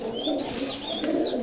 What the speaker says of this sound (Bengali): এই যে এইখানে কবুতর আছে